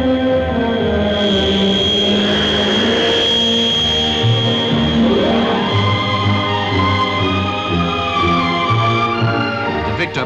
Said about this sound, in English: Civil aircraft, the Handley Page Dart Herald, a first-class multi-purpose transport in full production for several airlines.